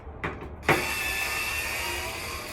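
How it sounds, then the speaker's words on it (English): A handheld electric screwdriver backs a screw out of a clothes dryer's drum baffle, a couple of faint clicks followed by a steady close motor whine that runs on without pause. "Counterclockwise, remove the screw."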